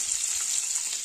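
Garlic frying in oil in a pan on the stove, a steady bright hiss and sizzle with faint crackles running evenly throughout, close and fairly quiet, with no voices.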